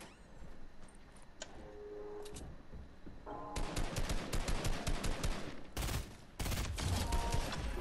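Rapid bursts of automatic gunfire in a multiplayer duos shooter game, dense rattling volleys that come and go across the stretch, loud and close with a few separate shots in between.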